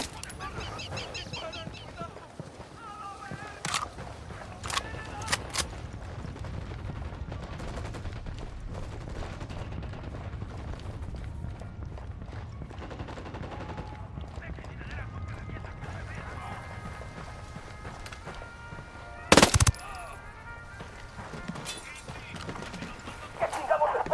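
Gunfire in the video game Ghost Recon Wildlands: scattered sharp shots over a steady rumbling game soundscape, with one louder burst late on, while someone speaks at points.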